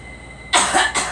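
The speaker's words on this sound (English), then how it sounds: "let's get all the coughs out" A girl coughs twice in quick succession, close and fairly loud, after a moment of near-quiet room tone.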